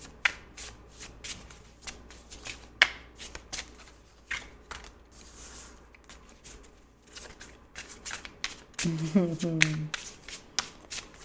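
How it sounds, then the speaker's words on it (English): Tarot cards being shuffled and laid out, with quick riffling flutters and soft slaps of cards close up, and a brief voice near the end. "Let me get all the cards out first before I say something."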